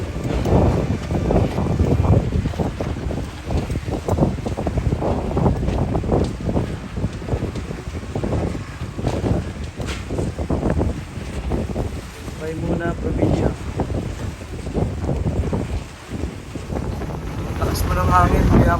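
Strong typhoon winds from Super Typhoon Karding buffet a vessel at sea, a steady loud rushing roar with microphone buffeting throughout, while people talk over it.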